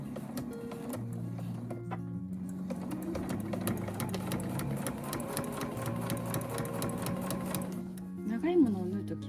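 A home sewing machine stitching a large nylon tote bag runs in a steady, fast rhythmic whir with a brief slowdown near the end, and a voice talks over it.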